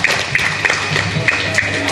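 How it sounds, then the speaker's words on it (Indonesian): An audience at a large religious gathering in Bandung applauds, a fairly loud, sustained wash of many hands clapping, with no one speaking. "Silakan tepuk tangannya"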